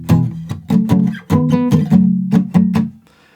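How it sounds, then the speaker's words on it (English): Acoustic guitar strums short palm-muted chords from a song in a quick choppy rhythm, close and clear, ending in a brief fade with no voice. "it plays the chords like really quietly, kind of palm muted like this"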